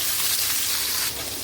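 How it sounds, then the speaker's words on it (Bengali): Fish pieces frying in oil in a pan for a Bengali fish curry with drumsticks, a steady close bright sizzle with no pauses. "যতক্ষণ মাছগুলো এখানে ভাজা হচ্ছে"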